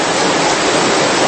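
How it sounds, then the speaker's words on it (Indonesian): Rain falling as a dense, steady hiss of broadband noise, loud and continuous with no distinct drops or voices. "lihatlah hujan ini"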